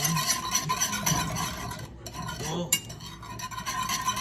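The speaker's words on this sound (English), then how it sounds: "make sure you keep whisking this whole thing" Hollandaise sauce is whisked steadily in a pan after melted butter goes in. The whisk makes a continuous, close scraping and swishing with faint clinks, and there is one brief pause near the middle.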